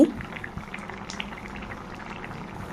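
A ridge gourd curry bubbles and simmers in a pan as a spoonful of ghee goes in, giving a steady soft boiling and sizzling texture, fairly close and continuous, with faint speech in the background.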